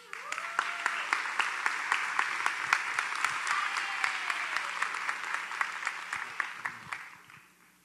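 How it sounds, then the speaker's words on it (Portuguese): Audience at an education event in Brazil applauding a presenter, a dense steady patter of many hands clapping that swells briefly then fades out near the end. "uma salva de palmas para Brian Correia"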